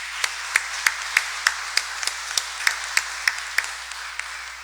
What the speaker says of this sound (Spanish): entonces le damos el aplauso a Caterín